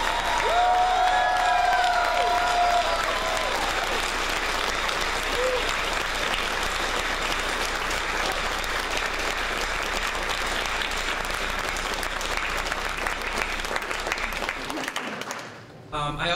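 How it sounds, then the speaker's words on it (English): A convention crowd at the Furnal Equinox 2015 closing ceremonies breaks into loud, sustained applause that holds steady for about fifteen seconds before cutting off. "let's give a big round of applause to them"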